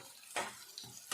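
Chopped onions being stirred and fried in a pan for a Bengali bottle-gourd kofta curry, a soft steady sizzle broken by two scraping stirs, close and quiet.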